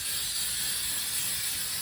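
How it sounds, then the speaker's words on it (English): Brake cleaner sprayed from an aerosol can onto the brake cylinder of a 1970 International 1100D pickup gives a steady, close, loud hiss that runs unbroken through the whole stretch, with no talking. "Dad's gonna spray it with brake cleaner to clean everything up."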